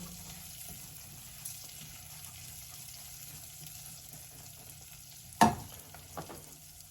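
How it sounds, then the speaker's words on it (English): Rice being stirred in hot oil in a pan while preparing Turkish-Greek stuffed mussels, a steady low sizzle with soft scraping and one sharp clatter near the end. "I'm going to stir it up so the rice to be coated by the"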